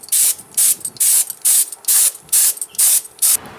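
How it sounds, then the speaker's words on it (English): A spray gun lays clear coat onto a wheel rim in eight evenly spaced bursts of sharp, close hissing, each roughly a quarter second long with short quiet gaps between. "I'm really lucky I get to borrow my friend's spray gun."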